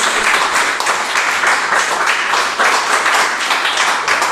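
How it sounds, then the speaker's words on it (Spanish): Congregation applause during a Spanish-language church sermon, dense steady clapping from a crowd filling the room, loud and continuous without talk. "Dale un fuerte aplauso"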